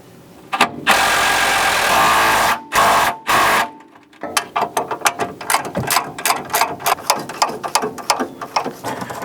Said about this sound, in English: So now, tighten these two bolts up